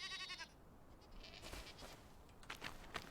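A goat in the survival game Enshrouded gives a short harmonic bleat at the very start, followed by quieter game ambience and a few scattered clicks and thuds.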